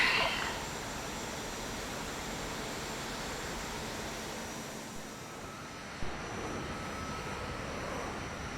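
Airplane engine drone in a military video game, a steady, moderately loud continuous hum with a brief bump partway through, no talking over it.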